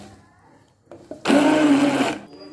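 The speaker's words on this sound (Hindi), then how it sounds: "अभी इसको हैंड ब्लेंडर से ब्लेंड" Hand blender whirring through mango aamras with milk, a loud steady motor buzz lasting under a second, with a few clicks and handling noises just before it starts.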